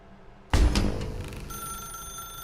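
Office telephone ringing in The Stanley Parable, a sudden loud ring that begins about a half second in after quiet and then rings on as a sustained tone, with no voices.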